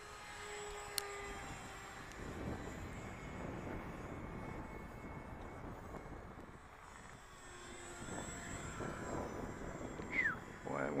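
A Freewing F9 Panther 64mm EDF radio-controlled jet landing in gusty wind, with a continuous rushing fan roar and wind buffeting that swells and fades, and a brief sharp knock early on.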